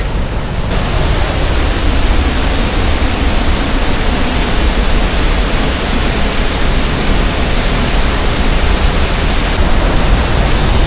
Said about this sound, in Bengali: ফলসটা এত পরিমাণে জল নামছে যে বিভৎস আওয়াজ হচ্ছে